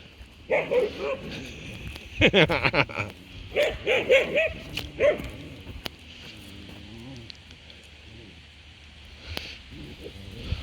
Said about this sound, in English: Lucy's barking at Amber